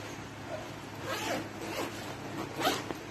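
A zipper on a North Face Hotshot backpack is pulled open in several quick rasping strokes, close and fairly quiet, with no talking over it.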